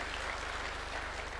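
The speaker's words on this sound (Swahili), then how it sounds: "Tuwapigie makofi jameni." A crowd at an outdoor UDA political rally claps steadily, a dense, faint wash of applause that carries on evenly without pause and without speech.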